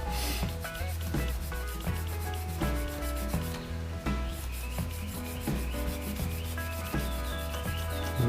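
A file rasps back and forth over a Tamiya 1/24 Fairlady 240ZG plastic model car body in steady rubbing strokes, close and continuous, with music playing underneath.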